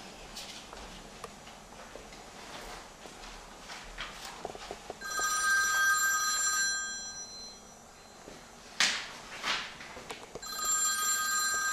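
An old-style telephone bell rings on a film set in two separate bursts, each lasting about a second and a half, against a quiet room with faint shuffling and light footsteps.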